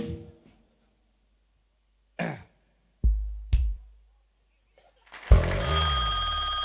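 A telephone bell rings in a short burst amid a Thai comedy folk performance, followed by a couple of thumps and then loud music or crowd noise swelling in near the end.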